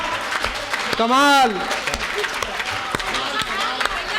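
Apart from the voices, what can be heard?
audience applause, commissioner clapping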